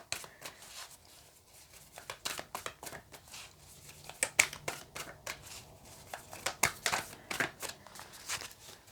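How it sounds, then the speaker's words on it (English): A heavy tarot deck being shuffled, repeated crisp riffles and card slaps in uneven bursts, close and fairly quiet, growing busier toward the end. "I'm getting a proper workout with shuffling this deck."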